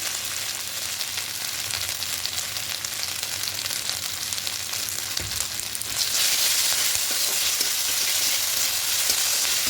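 Sugar and salt being stirred into a ginger and green chilli paste in a frying pan, a steady sizzle with soft scraping that grows brighter and louder partway through, no voices.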